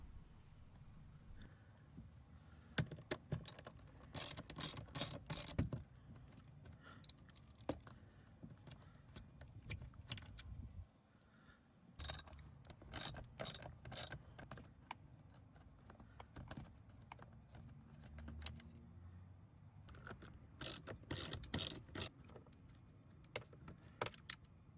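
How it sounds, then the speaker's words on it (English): A hand ratchet working loose T20 Torx screws on a BMW 3-Series front passenger speaker: close bursts of rapid metallic clicking, separated by pauses and quieter handling noises. "There are 3 T20 Torx screws that we'll need to remove."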